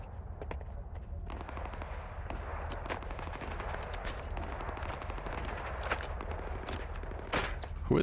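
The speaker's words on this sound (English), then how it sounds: "Who are they shooting at?" Bandits trading gunfire in S.T.A.L.K.E.R. 2, a steady clatter of rapid rifle and machine-gun shots at a moderate distance, continuous throughout over a low rumbling ambience.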